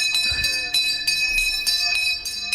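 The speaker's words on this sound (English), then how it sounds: "You're saying ring the big bell." A large bell struck repeatedly in a live-stream setting, with bright ringing strikes recurring roughly every third of a second to half second, each leaving a sustained metallic tone.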